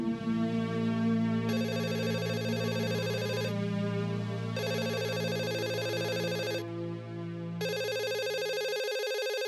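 A telephone rings out repeatedly while a call goes through, in loud electronic bursts separated by short pauses over a steady low hum, with no talking.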